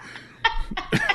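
A few sharp, close coughs from a woman in a podcast-style conversation, three or four quick bursts within about a second, loud and dry, with a slight laugh-like quality.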